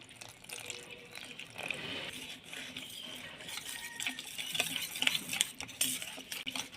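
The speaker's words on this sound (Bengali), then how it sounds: "অল্প একটু জল দিয়ে ব্যাটারটা বানিয়ে নেব।" Batter of flour, cornflour, salt, cumin powder, turmeric and a little water stirred in a bowl, a steady wet scraping and clinking of utensil against the bowl, close and fairly soft with no talking.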